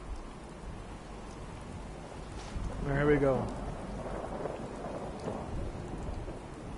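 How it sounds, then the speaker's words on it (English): Steady rain hisses throughout in the video game Fallout 4 while a low rumble of thunder swells and fades in the middle, with a brief spoken remark over it. "Alright, it's raining."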